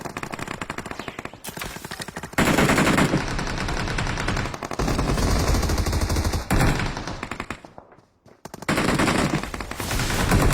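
Rapid machine gun fire in the Free Fire video game, long dense bursts of automatic shots with brief gaps and a short pause near the end, loud and continuous.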